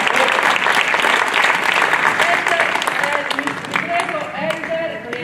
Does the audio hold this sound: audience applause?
yes